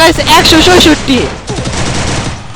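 Rapid automatic gunfire from an Evo gun rattles in a shooting video game, a loud burst of dense shots with someone talking excitedly over it.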